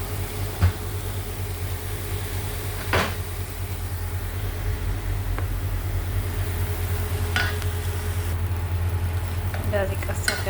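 Dried injera firfir with chili and spices fries in a pan: a constant close sizzle, with scraping stirs and a few sharp clinks of utensil against pan.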